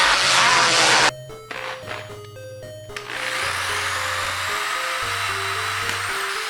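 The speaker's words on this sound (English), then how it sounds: "So I usually take a very, very light grit and I just sand it as good as I can." Sandpaper rubs lightly over a Nintendo-themed Jason mask, a brief broadband burst up front followed by quieter scraping under a low steady background with tonal music.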